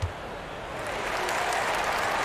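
A basketball arena crowd at an NBA 2K23 game between the 76ers and Hornets breaks into steady, swelling applause, dense clapping that builds and holds with no pauses.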